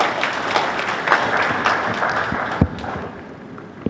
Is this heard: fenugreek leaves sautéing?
no